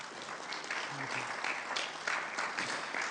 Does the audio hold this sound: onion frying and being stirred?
no